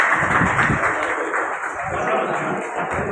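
An audience claps at a ceremony honouring the chairman of an Anglo Urdu high school and junior college: a continuous, fairly loud wash of applause mixed with a steady background hum and faint voices.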